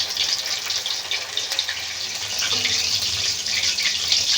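Lote fish pakoras sizzle in hot oil with a steady, dense crackling hiss that stays close and even throughout, with no talking.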